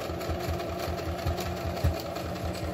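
A domestic sewing machine runs steadily, stitching a fabric surgical mask with a continuous rapid mechanical chatter and rhythmic needle thumps, close up and without talk.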